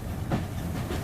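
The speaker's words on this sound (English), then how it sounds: "This train's taking forever." A train rolling along rails with a low, steady rumble and faint clacking, brief and fairly loud.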